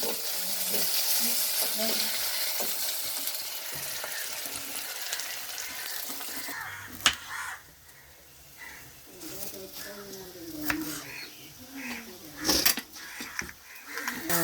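Curry leaves frying in hot oil crackle and sizzle loudly at first, then the hiss settles into softer bubbling with a few clinks of stirring, while a voice speaks over the later part.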